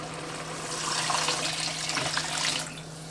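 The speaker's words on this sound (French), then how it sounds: "Cuisson cocotte, on ajoute le bouillon." Broth pours steadily into a cooking pot for a beef, barley and kale soup, a soft continuous splashing and gurgle swelling over about two seconds before tapering off, with a low steady hum beneath.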